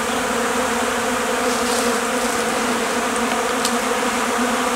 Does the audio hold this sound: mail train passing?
no